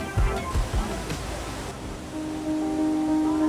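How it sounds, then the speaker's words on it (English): A massive waterfall in Sumatra gives off a broad, steady roar of rushing water. It is loud and close, and a few thumps and wind buffets break it near the start. "this is the most amazing waterfall I ever saw in my life"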